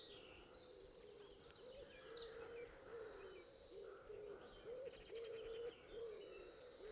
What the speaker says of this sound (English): Wood pigeons, starlings, other morning songbirds.